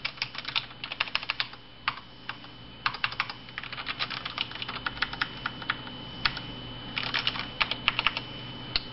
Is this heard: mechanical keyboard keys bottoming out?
yes